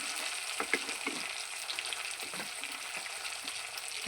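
Ground dried chilli, ginger and cumin paste frying in a pan for a spicy bhola fish curry, a steady close sizzle with scattered soft crackles and spoon stirs, no voices.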